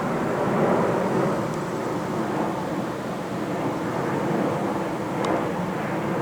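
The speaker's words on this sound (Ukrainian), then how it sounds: "пішов в аеропорт Хельсінкі літак на посадку" Airplane descending toward Helsinki airport for landing, heard from a rocky, heather-covered rise in the city: a steady, broad jet roar that stays fairly loud and even throughout, with no talking.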